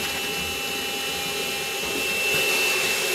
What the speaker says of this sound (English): And I'll just blow the filter off.